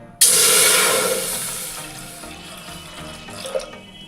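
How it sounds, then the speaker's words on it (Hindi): Water splashes as a glass of it is poured into an empty pressure cooker while making sweet potato kheer, a sudden loud gush that tapers off over a few seconds. "उसमें 1 गिलास पानी डाल देंगे।"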